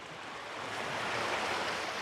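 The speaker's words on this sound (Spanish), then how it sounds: "les dije que se escuchaba agua y acá tenemos un arroyito, Belu." Small, clear stream flowing in a quiet Alaskan outdoor setting, a steady broadband wash of running water that swells slightly, heard close and alone with no talk.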